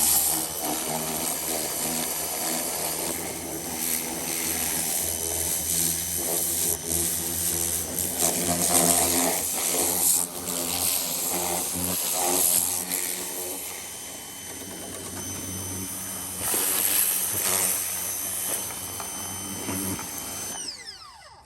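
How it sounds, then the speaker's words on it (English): A cheap Ryobi low-pressure washer, putting out about 60 or 70 psi, sprays water in a continuous buzzing whine with a hissing spray. It is loud and unbroken for about twenty seconds before it cuts off. "I got a little low pressure washer here, a little cheap Ryobi"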